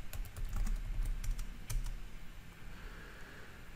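A computer keyboard is typed on in short quick bursts of close, faint clicking keystrokes, then goes quiet.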